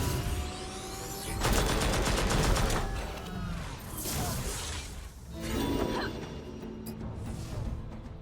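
Piercing Rounds gunfire attack in the video game Battle Chasers, loud bursts of rapid shots and crashing impacts in two or three waves over a layered game soundscape.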